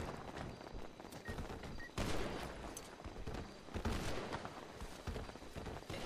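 Rapid bursts of gunfire from a GTA V gang shootout over a house airdrop, with explosions mixed in, loud and dense throughout the clip.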